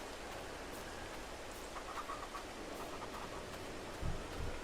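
Steady, soft rain falls in Farming Simulator 22 on a farm, a constant hiss with no talk and a couple of low thumps near the end.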